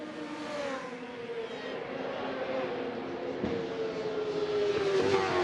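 Racing motorcycle engine during free practice at the Macau Grand Prix motorcycle race, a steady high-pitched drone that holds loud and even across the whole stretch with a slowly shifting pitch and no talk.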